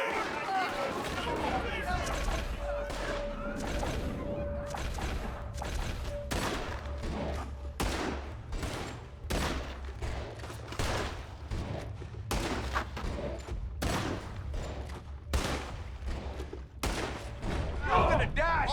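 Gunfire in Red Dead Redemption 2, a long series of sharp shots, some single and some in quick bursts, goes on for many seconds over a tense score, with voices shouting at times.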